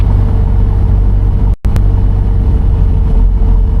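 A restored Piper Cherokee 6 propeller engine runs loud and close near 2650 RPM, a deep, steady harmonic rumble with one very brief dropout partway through.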